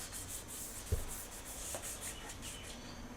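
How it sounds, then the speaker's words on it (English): Lacquered Stratocaster guitar neck hand-rubbed with 3600 grit abrasive, giving a soft, steady scratchy swish of light strokes with one brief louder bump near the start, quiet and close. "the areas I'm rubbing now, you'd be hard pushed to rub through with 3600 grit"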